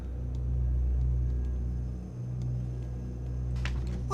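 A car rolls along in the Factorio video game, a steady low rumble of engine and road noise that holds fairly even before a brief dip, with a sharper burst of sound at the very end.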